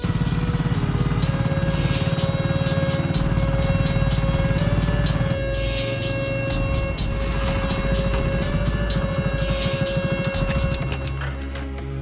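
Motorcycle engine running steadily at close range in a Hindi-dubbed South Indian thriller film, a loud continuous drone with a constant pitch and a slight shift partway through, with no talking.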